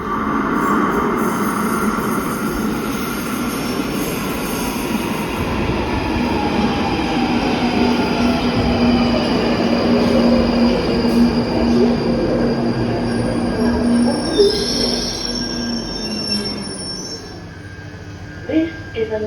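A London Underground Northern Line train on the extension to Battersea Power Station pulls into the platform, a loud rumbling approach with long, high wheel squeal as it slows, fading near the end.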